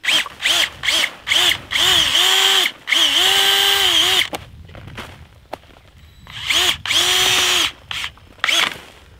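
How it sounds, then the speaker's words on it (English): Cordless drill turning an auger bit into garden soil to make planting holes for watermelon seeds: loud, close whirring bursts that start and stop repeatedly, with several short runs and two longer ones, and a quieter gap in between. "I'm going to use my auger on my drill"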